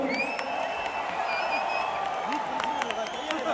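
At a live concert in Salalah, men in the audience clap and cheer together, a dense and steady wash of applause with scattered whoops that carries evenly through the whole stretch.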